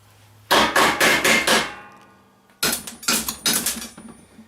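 Hammer bashing leftover bits off a piece of metal in a workshop; two close, loud bursts of rapid ringing metallic blows, about five strikes each, separated by a short pause.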